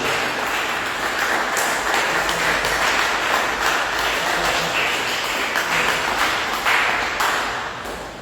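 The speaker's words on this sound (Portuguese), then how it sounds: "dê uma salva de palmas bem alegre para Jesus" A church congregation gives a joyful round of applause, many hands clapping in a dense, even patter that holds strong and then begins to thin toward the end.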